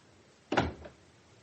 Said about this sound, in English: We'll shut the door.